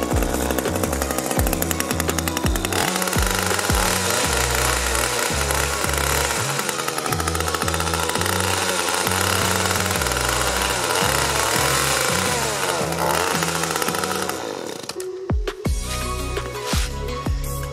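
A gas hedge trimmer engine runs loud and close until the carburetor runs dry, giving a steady buzzing drone with a rapidly chattering rhythm that falters and cuts out near the end.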